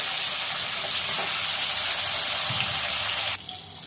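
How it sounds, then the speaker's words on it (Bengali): A large piece of fish and some potatoes fry together in a hot oil pan, giving a dense, loud, steady sizzle that abruptly drops in level near the end. "ওই যে বড় মাছ এক টুকরো এখনো ভাজা হয়নি, ওদের সাথে আলুগুলো ছেড়ে দিলাম"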